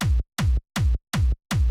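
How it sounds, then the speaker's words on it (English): Hard techno main kick drum sample from an Ableton Live session, hitting five times at a steady fast tempo, each punchy, loud and distorted with a booming low tail cut short, alone with no voices. "This is what the main kick sounds like."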